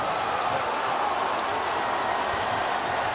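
Dense, steady crowd roar of football fans who have spilled onto the field after a home upset at Syracuse, continuous and loud without distinct peaks, with talk blended into the noise.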